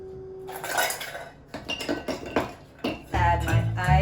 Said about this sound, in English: Add my ice and my lid and shake.